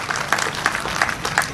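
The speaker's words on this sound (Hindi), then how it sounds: "मैं चाहता हूं पूरा सदन एक बार जोरदार तालियों से बुलाएं" Audience claps at a Hindi poetry gathering (kavi sammelan), brief rhythmic applause with several distinct pulses, fairly close and loud.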